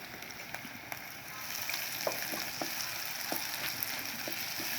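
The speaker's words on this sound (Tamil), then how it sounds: "இஞ்சி பூண்டு விழுதும், வெங்காயம், வெந்தயம், பச்சை மிளகாய் எல்லாத்தையும் எண்ணெயில் நல்லா வதக்கிக்கலாங்க." Ginger garlic paste, onion, fenugreek and green chillies frying in oil for an Indian crab curry, a steady sizzle with scattered pops and light clicks of stirring, close and moderately quiet.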